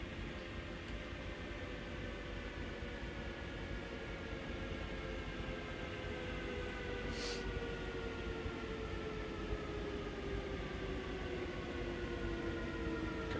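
A Talent 2 electric train running in Train Sim World, a steady rumbling roll with rising and falling motor whine tones, plus a brief hiss burst midway; no talking.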